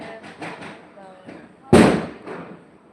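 A loud firecracker bang bursts out after a stretch of excited voices celebrating an India cricket win, its noise trailing off as people keep talking.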